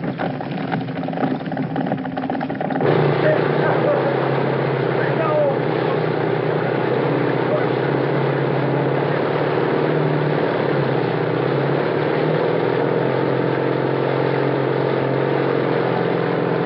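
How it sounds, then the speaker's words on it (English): A motor hums and whirs steadily at moderate level, with voices heard faintly under it near the start. "he's messing with my outboard motor, too"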